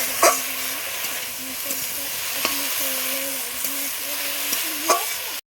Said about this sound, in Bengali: আর এদিকে আমার কিন্তু পেঁয়াজকালি ভাজা হয়ে এসছে